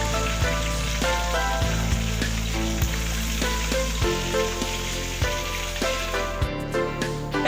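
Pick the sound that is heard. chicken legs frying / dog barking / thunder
chicken legs frying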